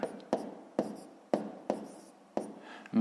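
Pen writing numbers on paper in a Ukrainian fifth-grade maths exercise, seven short scratchy strokes in an uneven rhythm, close and quiet, with no talking.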